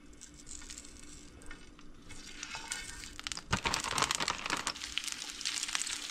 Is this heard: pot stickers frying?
yes